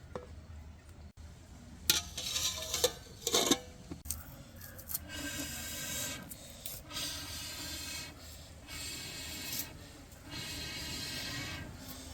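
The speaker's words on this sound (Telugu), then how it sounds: "వచ్చింది మంట ఉడికిపోతుంది ఉడికిపోతుంది" Dal simmering in a pot on a stove with a couple of drops of oil added, giving a steady bubbling hiss that swells and fades in waves with a few louder bursts near the start.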